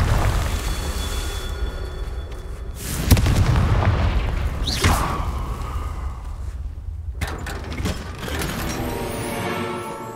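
Confringo fire spell blasting in Hogwarts Legacy, a loud boom near three seconds over constant rumbling game noise, followed by a whooshing burst and more crackling effects.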